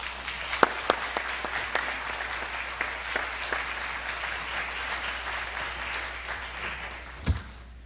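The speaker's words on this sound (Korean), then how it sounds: "우리 나오실 때 큰 박수로 격려해 드리겠습니다." A church congregation claps to welcome a missionary speaker: scattered sharp claps at first, swelling into moderate steady applause from a mid-sized room, then fading.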